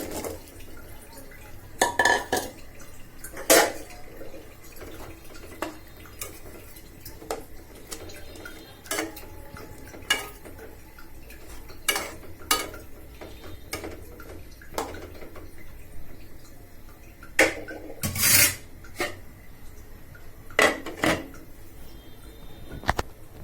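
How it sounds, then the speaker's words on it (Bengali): Chopped carrots added to a spiced fish curry and stirred in a pan, repeated clinks and scrapes of a spoon against metal over a soft sizzling background. "এবার আমি কেটে রাখা গাজরগুলো দিয়ে দিচ্ছি"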